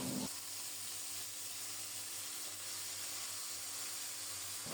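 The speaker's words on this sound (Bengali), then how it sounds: "লাল লাল করে ভেজে নেব।" Pabda fish fry together in a wok of oil, giving a soft, steady hissing sizzle that carries on evenly and fairly quietly from start to finish.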